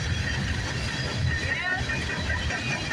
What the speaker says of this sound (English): We got surrounded by two trains, everybody, here in Carlisle,